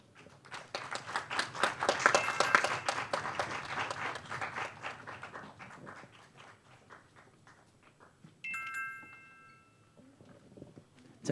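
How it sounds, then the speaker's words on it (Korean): An audience at a high school mock trial competition gives a burst of applause to welcome a student team, building and then fading over several seconds, followed by a few scattered claps and some shuffling in a quiet hall. "인천 포스코 고등학교 친구들을 힘찬 박수로 맞아주시기 바랍니다"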